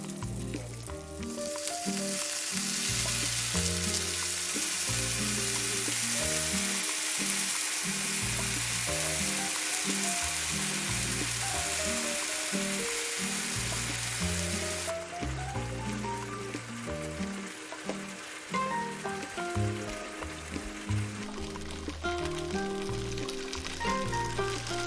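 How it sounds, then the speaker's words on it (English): Pot stickers fry in a pan with tuile batter, a loud continuous crackling sizzle that eases after about fifteen seconds, set against a steady low tonal backdrop. "And now you can add your tuile. This will create this beautifully crispy lace around the pot stickers."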